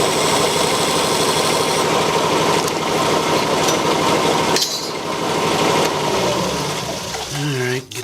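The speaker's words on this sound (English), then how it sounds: "this is the lathe I built" A homemade wood lathe runs steadily with a continuous motor drone and turning noise throughout, fairly loud and close, with a brief dip midway and the machine winding down near the end.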